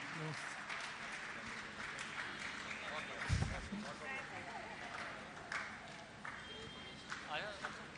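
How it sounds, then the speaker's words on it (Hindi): Enthusiastic audience applause during a Jain religious discourse gathering, dense crowd clapping running throughout with a loud thump partway through, while voices talk over it. "आप लोग जोरदार तालियों से एक बार फिर से स्वागत अभिनंदन करें दीपक भाई और रूपल जी का"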